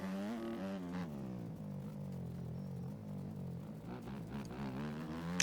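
A 250F dirt bike in the MX Bikes racing game revs continuously, its engine note rising and falling through gear changes, steady and fairly quiet with no voices.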